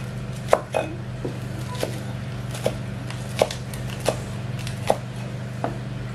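Spring onions being cut with a knife on a board in a home kitchen, a steady series of sharp close chops at an irregular pace over a constant low background hum.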